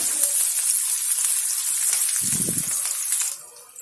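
Chopped onion fries in a pan on the stove, browning to golden for a ridge gourd bharta, with a loud steady sizzle, a brief low clatter partway through, and the frying dropping off near the end.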